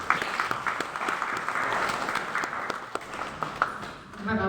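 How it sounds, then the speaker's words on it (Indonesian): Applause from teachers and staff at a coordination meeting at UIN Tulungagung, a moderate, steady patter of many hands with occasional sharper claps, easing off near the end. "Ini alhamdulillah tepuk tangan untuk Bapak Ibu."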